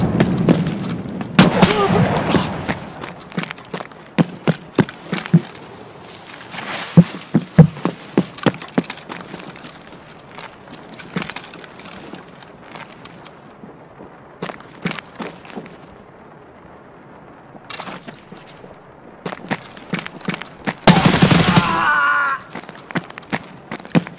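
Gunfire in Escape from Tarkov sounds as sharp single shots and short bursts scattered across a long stretch, some close and loud and others more distant, with quieter gaps and a few heavier blasts between them.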